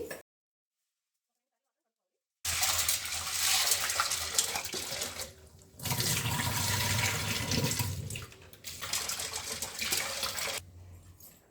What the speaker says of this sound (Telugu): మనం ఈ గ్లాస్ శనగపప్పు తీసి బాగా కడుక్కోవాలండి